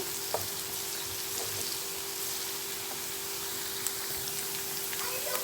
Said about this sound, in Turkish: soğanlarımız kavrulmaya devam ediyor